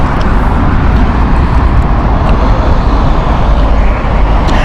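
A Delta Airbus A330neo inbound from LAX arrives at Heathrow on a hot summer evening, a loud, steady broadband engine roar that fills the whole stretch without easing.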